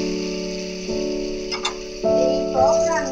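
Water hits a hot pan of fried raw mango and fish roe, setting off a steady sizzle and bubbling hiss that grows louder near the end, with a constant tonal hum underneath.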